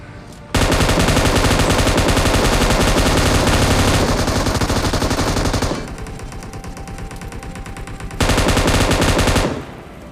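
Sustained bursts of M249 machine gun fire in PUBG Mobile, a dense rapid stream of shots lasting several seconds, then a quieter stretch, then another loud burst before it cuts off.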